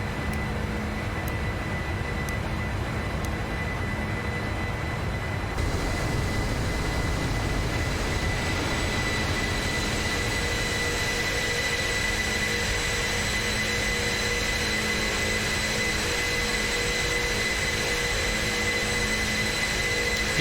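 Boeing 747 jet engines in a flight simulator during a morning climb-out from Sydney, a steady broadband roar with a constant whine, continuous and moderately loud, with no talking.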